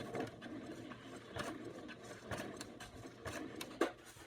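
Quilt fabric is stitched on a sewing machine running slowly, producing soft, close mechanical whirring with irregular ticks and a sharper click near the end.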